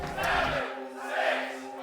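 A team of esports players in a League of Legends match shouts a group cheer together, two loud overlapping bursts of voices in quick succession, close to the microphone.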